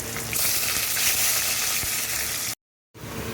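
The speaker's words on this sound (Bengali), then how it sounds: "মাছটা ভাজা হয়ে গেছে।" Silver carp pieces frying in hot oil in a kadai, a loud, dense, continuous crackling sizzle heard up close, cut off by a brief silence near the end.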